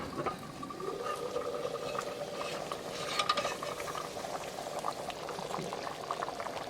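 Black-eyed peas gravy simmers under a lid in a pot, giving a continuous low bubbling and rattling, close and fairly quiet with no one talking.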